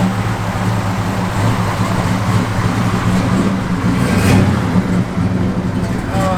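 A 1972 Chevrolet Chevelle with a cam idles steadily and loudly nearby, a constant lumpy rumble throughout with a slight swell toward the end, with no talk over it.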